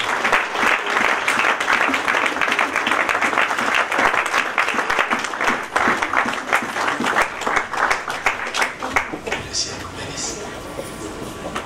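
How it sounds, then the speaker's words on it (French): A church congregation bursts into strong, sustained applause, a dense wash of clapping that stays loud and steady for most of the stretch before thinning slightly near the end. "j'invite à la fois l'Assemblée à donner une forte main d'acclamation pour la gloire de notre Dieu"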